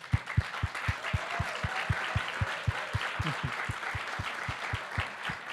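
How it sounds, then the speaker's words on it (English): Applause at a South African business tourism meeting, heard as a rhythmic series of evenly spaced, fairly quiet claps with a steady softer clapping background, moderately distant in a large room. "give them a round of applause"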